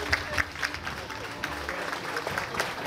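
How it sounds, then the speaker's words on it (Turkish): Applause from guests at the opening launch of a dental clinic branch in Etiler, Istanbul, with individual claps standing out over a crowd murmur and some voices mixed in. "Sizlere de büyük bir alkış."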